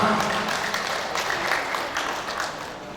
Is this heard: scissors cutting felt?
no